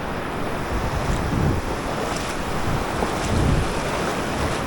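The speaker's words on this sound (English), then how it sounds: "Not get smashed by waves" Ocean waves breaking over a shallow reef flat, a steady rushing surf with wind buffeting the microphone, swells surging in broad washes, no voices.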